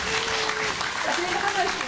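Audience applause at an open concert greets a composer, a steady wash of clapping with faint tonal hums and murmurs drifting underneath.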